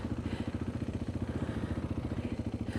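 A motorcycle engine chugs steadily with a regular low pulsing throb during a countryside ride, loud and close with a faint rattle, and no voices over it.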